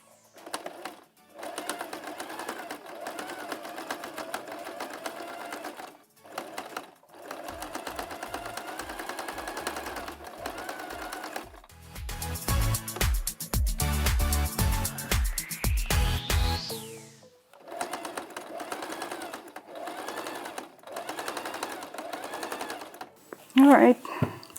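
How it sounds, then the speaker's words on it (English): A sewing machine stitches a fabric mask closed, running in steady rapid bursts that stop and start, close and loud, with a person talking over parts of it. "we sew along this to close off the opening"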